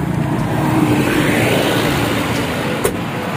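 A vehicle engine runs steadily with a loud, close, broadband rumble and no speech, with a brief knock near the end.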